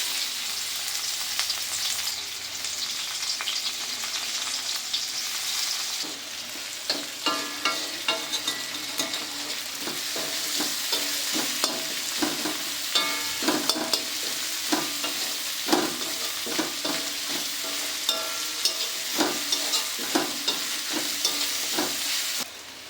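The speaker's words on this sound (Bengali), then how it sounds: "এখন আমি মাছ ভাজার তেলের মধ্যে কেটে রাখা পেঁয়াজ দিয়ে দিলাম।" Chopped onions frying in leftover fish-frying oil make a loud, continuous sizzle, and repeated sharp scrapes and clacks from stirring break through it, coming more often in the second half.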